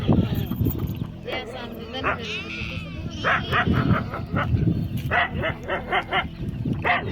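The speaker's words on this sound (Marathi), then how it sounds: "कुत्र्याची भांडण" Dogs bark and snarl in a noisy scuffle, with sharp yelps over people talking loudly nearby at a village fair.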